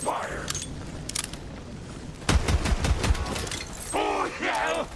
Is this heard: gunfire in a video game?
yes